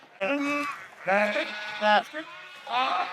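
Sheep bleat repeatedly in a farm pen, several drawn-out wavering calls in sequence, fairly close and clear, with brief gaps of quiet between them.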